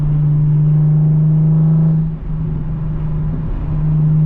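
Modified Infiniti G37 with a loud aftermarket exhaust, a steady deep droning engine note held close up, dipping briefly mid-way as it downshifts, then resuming its even rumble.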